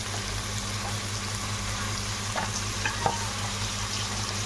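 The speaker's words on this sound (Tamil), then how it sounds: "உருளைக்கிழங்கு போட்டாச்சு. நல்லா வதக்கிக்கலாம்." Potatoes sauté in a frying pan with a steady, low sizzle, broken by a few soft clicks of stirring near the middle, and no one talks.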